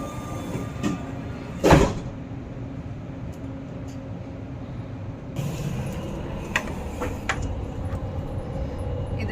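Doha Metro train running near Katara station, heard from on board: a steady loud rumble with a sharp screech or clatter early on and faint rattles later.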